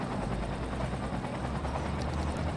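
Steady, continuous fire helicopter rotor drone in the video game Cities: Skylines, a dense broadband chopping roar holding at constant loudness throughout with no voices.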